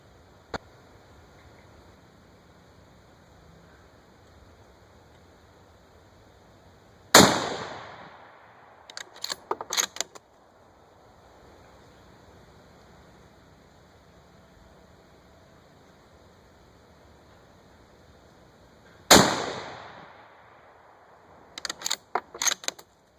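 Two loud, sharp rifle shots from a Savage Axis heavy-barrel rifle in .243 Win, spaced well apart, each followed by a ringing decay and a few quick metallic clicks of the bolt cycling.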